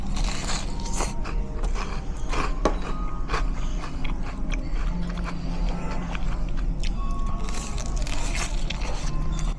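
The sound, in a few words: biting into crispy shrimp tempura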